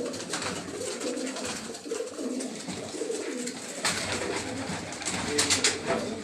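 Pigeons coo on a rooftop loft in Karachi, soft repeated throaty calls over a busy, hissy outdoor background.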